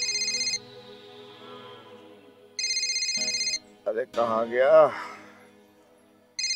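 A telephone rings in repeated electronic bursts, loud and close, with a pause between rings; someone speaks briefly between them.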